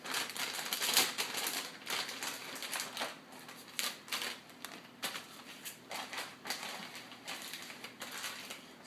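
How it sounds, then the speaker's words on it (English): Soap is scraped down with an old credit card, producing quick rhythmic scratching strokes, close and quiet, in a steady series of short rasps with no talking. "use an old credit card or some kind of like one of those little freebie gift cards or whatever to scrape all of it down"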